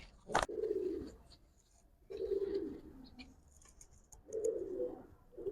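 Giribaz pigeons in a loft give three soft, low coos spaced a couple of seconds apart, close by and quiet, with faint flutter and shuffling between them.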